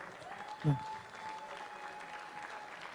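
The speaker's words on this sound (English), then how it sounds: "Round of applause, Yerdaulet." Audience applauding at an East vs West 70kg right-hand armwrestling ranking match, a continuous moderate clapping bed with a short voice or thump near the start and faint talk mixed in.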